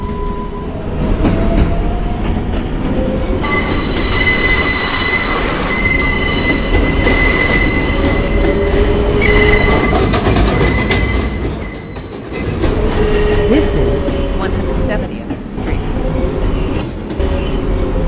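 A New York City R142A subway train on the 4 line rumbles and clatters along the tracks, loud and close, with metallic wheel squeals rising and falling over the run.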